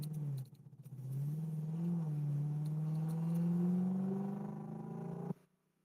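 A Lexus engine revs up to around 4000 RPM while driving on an Australian highway, a steady rising drone that climbs in pitch over several seconds then cuts off abruptly, heard from inside the car.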